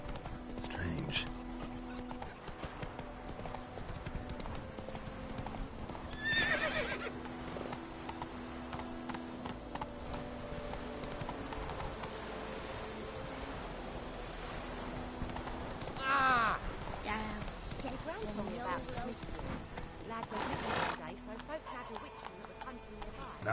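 In The Witcher 3, a horse gallops with rhythmic hoof clip-clops and gives a couple of distinct neighs, while in-game voices speak over the continuous hoofbeats.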